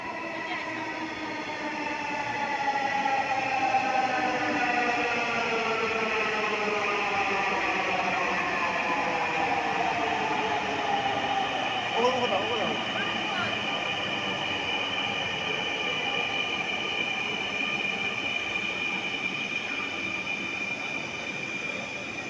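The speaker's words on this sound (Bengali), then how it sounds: "আসছে ট্রেন।" A train draws near and rolls past for about twenty seconds, with a loud, sustained mechanical hum whose pitch slides downward and brief squeals from the wheels midway.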